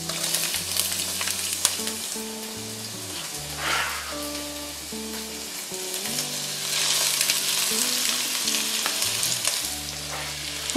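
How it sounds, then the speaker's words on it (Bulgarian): Vegetables frying in hot oil for eggplant moussaka, a steady close sizzle and crackle with stirring that stays even throughout, while background music plays underneath. "След като олиото вече е загряло, добавям зеленчуците да се запържат за около 6-7 минути."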